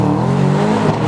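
A powerful SUV's engine holds a loud, steady rev as launch control builds up, a continuous close-up drone with slight shifts in pitch and no voices over it.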